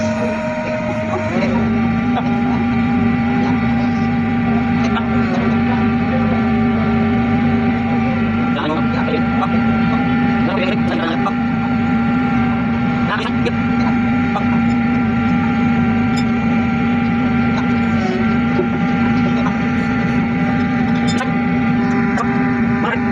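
A noisy vehicle transmission with worn bearings runs steadily in a motor pool, a loud constant droning hum with a strong tonal whine and faint clicks throughout, with voices now and then.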